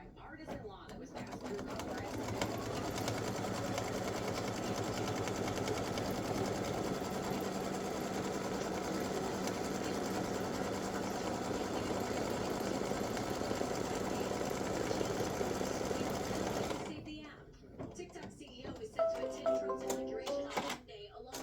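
An in-the-hoop embroidery machine stitching a seam line on fabric for a mug rug side panel, a steady close mechanical hum with fast rhythmic needle beats that runs for about 15 seconds and then stops.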